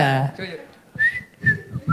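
A couple of short whistled notes come after a brief bit of talking, with some breathy sounds in between.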